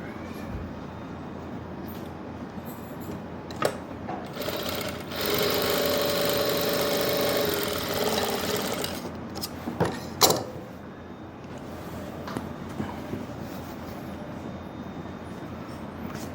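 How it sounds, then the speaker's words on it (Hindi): A sewing machine runs a line of stitching on a pocket of palazzo trousers, a steady mechanical whirr of a few seconds in the middle, framed by scattered clicks and handling knocks. "अब इसके ऊपर भी एक सिलाई लगा लेते हैं।"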